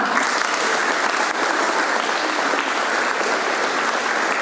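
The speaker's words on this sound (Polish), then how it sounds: "również brawa" Steady, dense applause fills a school hall during an Independence Day assembly, loud and continuous with no pauses throughout.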